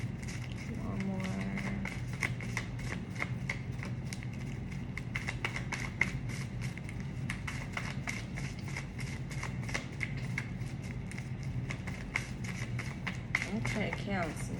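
Tarot cards are shuffled continuously in rapid, dense riffling clicks close to the microphone, with a voice speaking over them.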